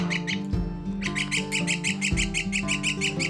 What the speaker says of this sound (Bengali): পাখিটা এত কাঁদছে এই দেখুন খাবার জন্য